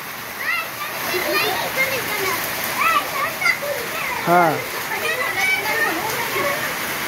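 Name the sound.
rainwater leaking and splashing into a house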